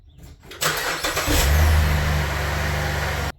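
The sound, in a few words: Chevy Malibu 3.6L V6 engine running after oil change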